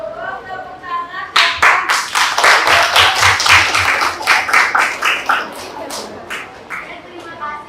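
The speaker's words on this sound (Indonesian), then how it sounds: "Cukup, tepuk tangan." A class of students bursts into hand clapping, a quick round of sharp, lively claps that starts abruptly, holds for several seconds, then tapers off into scattered claps, with voices speaking before and after.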